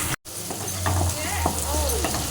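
Chopped tomato being stirred into egg Maggi noodles in a frying pan, a steady sizzle with scraping spatula strokes running throughout, close and fairly loud, with faint voice-like tones in the background.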